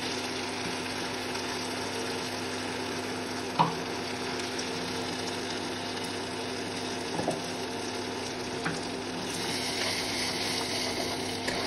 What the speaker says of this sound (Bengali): নাড়িয়ে দিতে হবে কিন্তু, আর যেহেতু এটার মধ্যে কাজু বাটা আছে তলায় লেগে যেতে পারে।